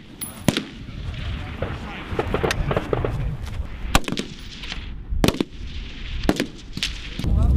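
Gunfire at a military live fire exercise, with sharp loud shots cracking out at irregular intervals over constant outdoor rumble and voices talking in the background.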